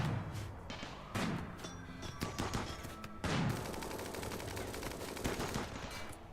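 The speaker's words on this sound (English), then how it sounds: "the mortar shells coming out just freaked me out" Mortar shells and gunfire in a video game keep up a dense barrage of bursts and thumping impacts, with heavier blasts around the middle and a rattling, steady fusillade continuing to the end.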